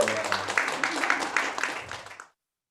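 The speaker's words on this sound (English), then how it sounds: "Round of applause for my liver." A comedy club audience gives a short burst of clapping and cheering, loud at first and then tapering before cutting off abruptly.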